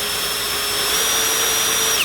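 Power drill running steadily while mounting a handle bracket onto a fish walking cart, a continuous high whine held for about two seconds before it cuts off, close and loud with no talking.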